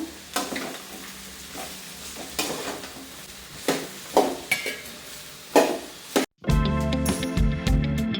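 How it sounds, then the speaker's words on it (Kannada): Okra (bhindi) being stirred and fried in oil in a pan at home, with repeated scraping stir strokes and clinks of a utensil over a soft sizzle, ending in a louder, denser burst of frying noise. "ಇವಾಗ ಬೆಂಡೆಕಾಯಿ ಫ್ರೈ ಮಾಡ್ಕೋಬೇಕು"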